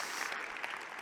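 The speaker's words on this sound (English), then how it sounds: "Big applause for the lights team" Brief burst of audience clapping at a tech conference talk, fairly faint and dense, lasting only about a second.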